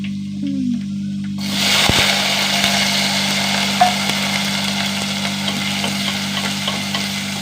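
Shallots, green chilies and curry leaves fry in hot oil, a steady loud sizzle that swells after the first second and holds with scattered crackles and pops, over a constant low hum.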